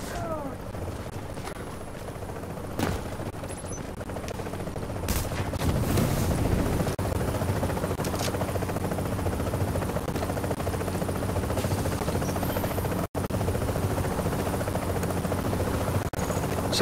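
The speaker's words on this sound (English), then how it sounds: "There comes the extraction chopper." Extraction helicopter in the video game The Division arrives with a steady, loud rotor drone that fills the whole stretch, a few sharp bursts of gunfire popping over it, with faint talk underneath.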